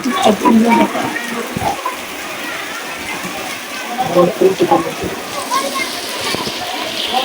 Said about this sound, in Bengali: এই যে বৃষ্টি হচ্ছে বাজারে আমাদের এই মোড়ে আমরা দোকান থেকে ভিডিও করছি